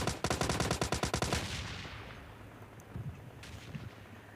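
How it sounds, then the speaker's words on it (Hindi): Rapid automatic gunfire in PUBG Mobile Lite cracks out as a loud burst of about a dozen rounds, then fades into a rumbling tail with a few faint distant shots. "तभी भाई ये बंदे किसके ऊपर फायर करने लग जाते हैं पता नहीं"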